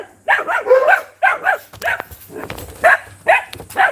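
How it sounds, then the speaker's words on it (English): Household dogs bark close by in a rapid series of sharp barks and yips, some clustered in pairs, with short gaps between, loud and dominating the scene. "sorry about that. Dogs."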